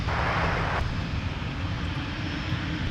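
An Airbus A330-900neo airliner at Minneapolis–Saint Paul airport gives off a loud, continuous engine roar that stays steady throughout, close and heard on its own without any talk.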